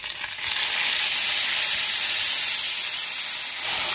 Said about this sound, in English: Now we're going to add the onion mixture.